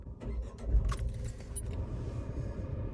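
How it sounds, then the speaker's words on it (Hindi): Keys jangle as a car key goes into the ignition of a Tata Punch base-model compact SUV, followed by a low engine hum, close and fairly loud, with no talking. "चाबी लगाते हैं और इग्निशन स्टार्ट करते हैं"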